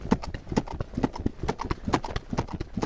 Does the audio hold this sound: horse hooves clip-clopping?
yes